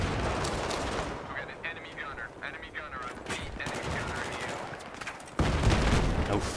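Battlefield 3 gunfire crackles in bursts of rapid automatic shots with some heavier blasts, loud and dense, under and between a player's speech, with a sharp louder volley near the end.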